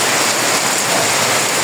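Heavy monsoon rain pours down in a dense, unbroken roar of water, loud and close, with no voices.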